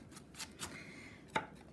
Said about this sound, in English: I am chopping up my onions really fine